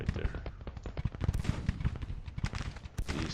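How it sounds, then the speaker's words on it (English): Civil War 20-pounder cannons and musket fire in the Grand Tactician strategy game crack and boom in a rapid, irregular barrage of many overlapping shots, some near and sharp, others distant. "Our 20-pounders are firing off"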